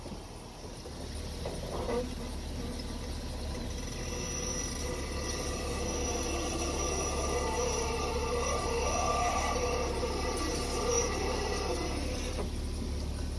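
A worn Jeep Wrangler with about 80,000 miles and no rear brake pads left grinds metal on metal as it rolls slowly, making a continuous scraping, whining drone at moderate level.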